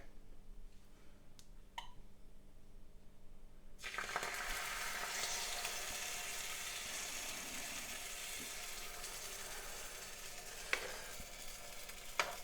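Omelette mixture sizzles in a cheap B&M electric omelette maker, a steady bright hiss starting abruptly partway through and continuing loud and close, with occasional clicks and small taps from utensils.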